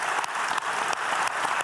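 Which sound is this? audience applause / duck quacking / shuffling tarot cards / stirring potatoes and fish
audience applause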